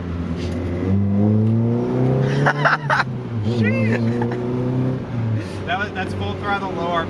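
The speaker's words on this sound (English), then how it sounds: "That's full throttle, low RPM pulls." A Mazda Miata with a swapped-in Honda K24 engine pulls hard at full throttle from low RPM, its low drone rising steadily in pitch, with people talking over it throughout.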